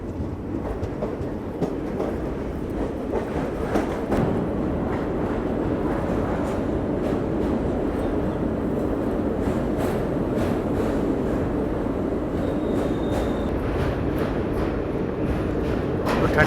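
A passenger express train rumbles across the old rail-cum-road Malviya bridge, about 150 years old, heard from on board as a steady loud roar with faint clattering and metallic rattles throughout.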